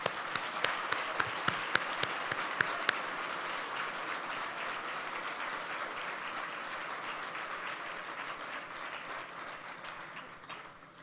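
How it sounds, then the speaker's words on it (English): Audience applause at a university building dedication ceremony, beginning with a few sharp separate claps and swelling into steady, dense clapping from a large crowd that holds for about ten seconds before fading slightly. "Please join me in a round of applause for them."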